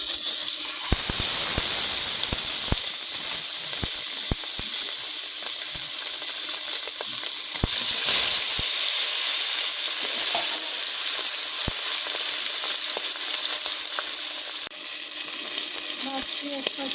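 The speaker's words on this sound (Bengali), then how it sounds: "আমি ইলিশ মাছ সয়াবিন তেল দিয়ে ভাজবো।" Hilsa fish fries in soybean oil in a hot wok with a loud, continuous sizzle, crackling spatter and sharp pops, and no voices.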